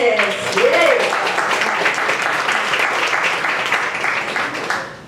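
Steady, dense applause from a crowd fills the whole stretch, with a brief voice rising at the start before fading slightly at the end.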